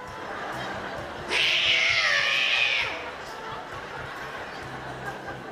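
A comedian's voice imitates two cats caterwauling at night, a single loud, strained yowl lasting over a second before the crowd noise settles back.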